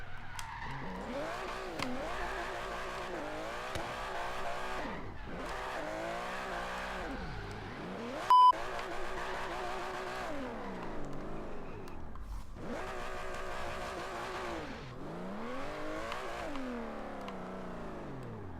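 An Aston Martin Vantage GT12 drifting in the racing game Forza Horizon 3, its engine revving and falling in repeated loud sweeps with tire skid noise, including one brief sharp click partway through.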